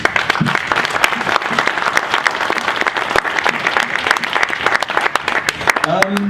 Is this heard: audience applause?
yes